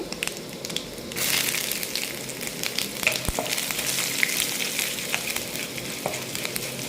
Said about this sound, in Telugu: ఇవి ఇవి కొంచెం ఇలా వేగనివ్వాలండి